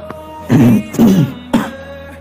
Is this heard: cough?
yes